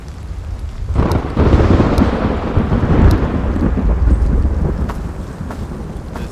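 Heavy rain pours steadily in the video game Road to Vostok, with deep rolling thunder rumbling through most of the stretch and a few sharp crackles standing out above the downpour.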